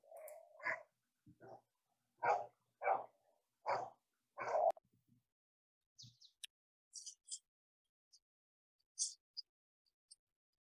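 Several dogs bark in short bursts, a run of sharp woofs at first, then thinner, higher yelps scattered sparsely, sounding somewhat distant in a quiet room.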